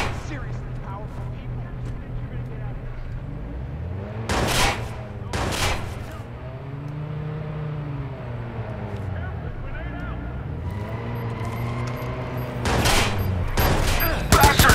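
Gunfire in the Watch Dogs video game: bursts of sharp shots crack out amid engine noise and a passing vehicle, with voices talking over the action.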